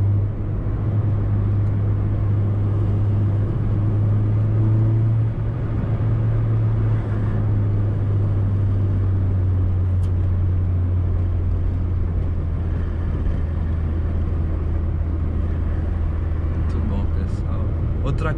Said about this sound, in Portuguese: tem que ser só o ronco do carro aí de fundo